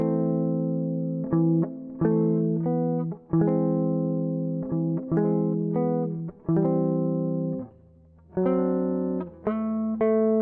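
Clean electric guitar plays a chord melody arrangement of a song, strummed chords ringing with melody notes on top, with brief pauses between phrases.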